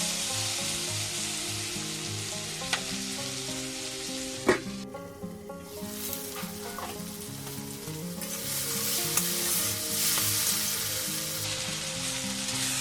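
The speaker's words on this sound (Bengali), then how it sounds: "এবার আমি মটরশুঁটিটা দিয়ে দেবো এটা একটু নরম করে ভেজে নেব ঢাকা দিয়ে দিয়ে" Green peas fry in a pan with a steady, close sizzle and occasional stirring clatter, while tonal background music plays underneath.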